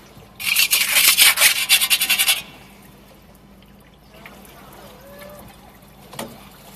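Rotted, punky material is rubbed off a sign under repair in a series of quick, loud rasping strokes lasting about two seconds, followed by near quiet with faint handling sounds.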